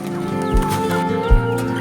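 Cornish Cross meat chickens cluck and chatter at close range at feeding time, with two brief low thumps breaking through the steady flock noise.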